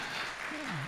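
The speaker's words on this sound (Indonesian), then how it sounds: "Tepuk tangan untuk anak-anak Magetan." Applause from a school audience of teenagers at a youth nutrition talk in Magetan, a dense broadband patter throughout with a voice briefly audible over it.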